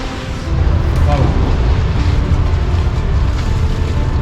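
A mountain torrent rushes below in a steady, loud, broadband roar that swells slightly after the first half second and holds constant, with voices talking nearby.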